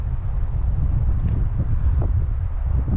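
Steady breezy wind at Willow Springs Lake on Arizona's Mogollon Rim rushes over the microphone as a constant low rumble with gusty flutter, loud and unbroken throughout, no talking.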